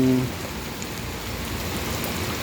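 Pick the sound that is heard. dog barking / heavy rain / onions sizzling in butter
heavy rain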